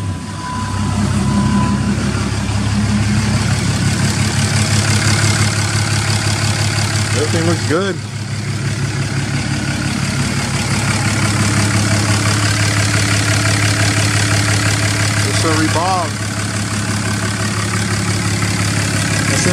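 Cummins 6.7 diesel engine idles after start-up, a loud steady low rumble that continues throughout, with someone talking briefly over it and a couple of faint squeaks.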